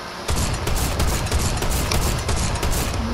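Fortnite gunfire, a loud, rapid string of close shots that rattles on in quick bursts throughout.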